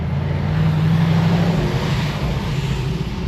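A running 1955 Chevy Tri-Five with a gear-shifting problem, its engine droning steadily and loudly up close with a low, rough idle hum and slight rise in pitch midway.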